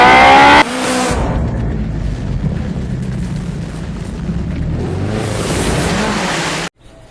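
Loud car accelerating with a turbocharged engine roar, a steady powerful surge lasting about six seconds before cutting off abruptly, with no voices over it.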